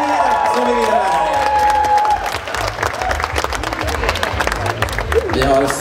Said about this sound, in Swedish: Jag tycker att det var värt en mycket större applåd än vad det där var.